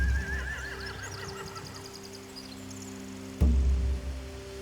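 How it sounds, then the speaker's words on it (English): A horse neighs in The Walking Dead: The Final Season video game, a clear whinny with a rising and falling warble, then a sharp thump and a low rumble near the end. "They have horses."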